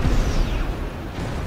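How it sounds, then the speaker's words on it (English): Missiles blow up in Armored Core VI in a short burst: a loud blast at the start, then a rumbling tail with a falling whistle. Nobody talks over it. "They're sending missiles at me."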